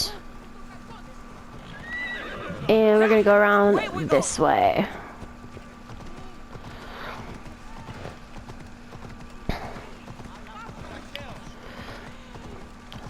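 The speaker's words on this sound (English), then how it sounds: "I'm gonna get a horse." A horse in the Assassin's Creed video game set in ancient Greece gives a loud whinny, then soft hoof clip-clops follow as a person speaks over the game sounds.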